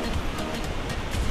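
Ocean surf at Sadranan beach in Gunung Kidul, a rocky shore, roars steadily close by as a continuous broadband wash with no distinct breaks, loud and unbroken throughout.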